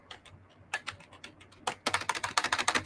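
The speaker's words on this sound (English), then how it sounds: "She's typing." Typing on a computer keyboard, with sparse scattered key taps at first, then a quick, steady run of close, crisp clicks.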